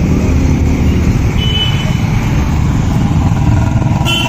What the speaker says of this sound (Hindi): बाइक देखो भाई,